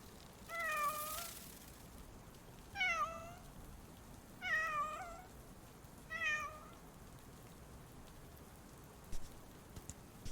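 Cat meows from the video game Cat Secretary, four short bright mewing calls spaced a couple of seconds apart over a faint hissy background, each clear and close, followed by small clicks.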